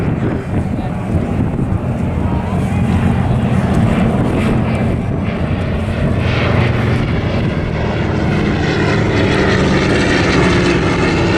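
A Douglas Dakota aircraft flies past at the Southport Airshow during a Battle of Britain Memorial Flight evening display, its propeller engines a loud, sustained drone with buffeting wind noise throughout.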